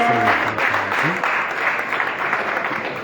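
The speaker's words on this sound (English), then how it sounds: "Big round of applause for that." Audience applause at a National Port Authority fundraiser launch supporting the University of Liberia, steady clapping from many hands, with a brief voice at the start.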